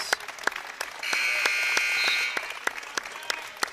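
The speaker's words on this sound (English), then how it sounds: "He's getting a round of applause here from the fans." Fans at a high school boys varsity basketball game applaud a player: scattered, sparse claps ring out across the gym, while a sustained buzzer-like tone sounds through the middle.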